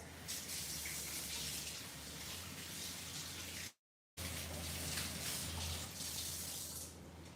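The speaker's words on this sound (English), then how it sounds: "So I'm gonna let those sit in the water for just a second and wash my hands." Tap water runs steadily into a kitchen sink while hands are washed during shrimp pasta salad prep, a continuous moderate splashing rush broken by a brief silent gap midway, with no talking.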